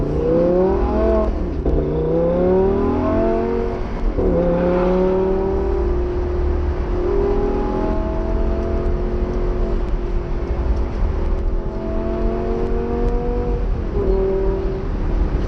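A Lamborghini Gallardo LP560 in sport mode accelerating hard from inside the cabin, its engine climbing in pitch through repeated rising sweeps with quick dips at each gear shift, loud and continuous without talk.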